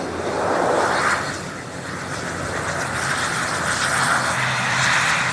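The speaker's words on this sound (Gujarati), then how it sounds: "આ વિમાન છે ઇન્ડિગોનું." An IndiGo airplane taking off at Ahmedabad's Sardar Vallabhbhai airport, a steady broad jet engine roar heard from a distance with slow swells in loudness, no talking.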